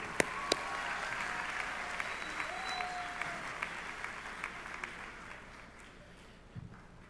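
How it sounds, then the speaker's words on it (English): Sustained audience applause at a high school commencement ceremony, a steady even wash of many hands clapping with a few sharper claps early and a faint sustained tone underneath. "Let's give another round of applause, please."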